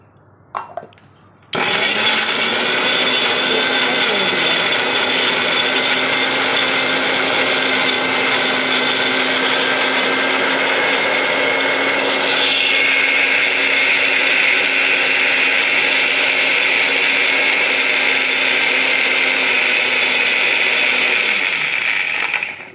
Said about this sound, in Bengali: ধুয়ে নিয়ে মিক্সির মধ্যে দিয়ে দিলাম।